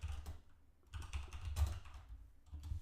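Quiet, rapid clicking of keys on a computer keyboard, irregular bursts of typing heard close and alone.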